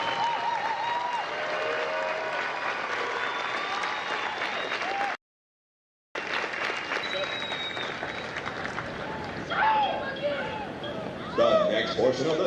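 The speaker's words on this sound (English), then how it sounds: "please join me in a round of applause for the company staff of Hotel Company." Crowd applause at a Marine Corps recruit graduation ceremony in San Diego, broad outdoor clapping with cheers and voices mixed in, briefly dropping out before resuming amid crowd chatter.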